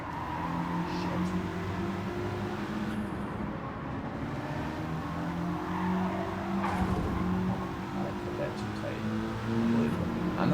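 A race car in the Gran Turismo 7 video game droning steadily with engine tone shifting through a turn and faint tire skidding, moderate level, under a player's voice.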